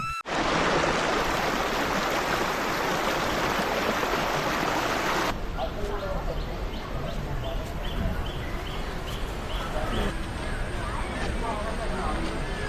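River water flows in a steady, dense rush beside the Akkare Kottiyoor temple in Kannur, surrounded by forest. Faint birdsong and a distant crowd murmur sit underneath the continuous wash.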